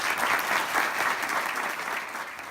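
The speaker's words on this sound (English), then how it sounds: "Please give them a round of applause." A ceremony audience claps in a steady, even round of applause, a dense patter of many hands that holds at moderate loudness and eases slightly toward the end.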